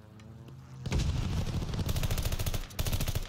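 Gunfire from hostiles strafing in Call of Duty Hardpoint: sustained loud rapid automatic bursts erupt after a quiet moment, then continue with a brief pause before another volley.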